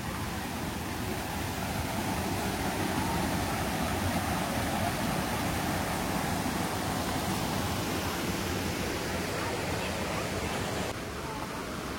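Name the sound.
flowing river in a Swiss village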